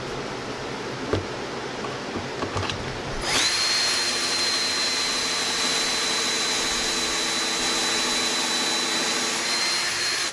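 A power drill boring holes in photo display pieces, starting with some handling clatter, then a loud, continuous high-pitched whine held steady at close range.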